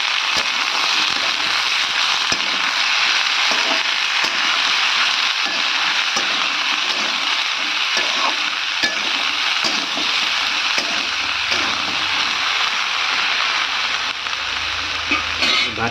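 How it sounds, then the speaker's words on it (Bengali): Chopped bottle gourd sizzles loudly in a hot pan and is stirred. The frying hiss holds steady and loud throughout, with scraping from the stirring and no voices. "এবার দিয়ে দেবো কেটে রাখা লাউ। ভালো করে মিক্স করে দেবো।"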